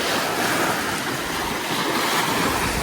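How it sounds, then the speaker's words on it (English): Steady wind and lapping waves on a large lake in France where carp anglers fish at distance, a continuous broadband rush with gusty wind noise across the microphone and no talk. "this wind is supposed to increase now all day"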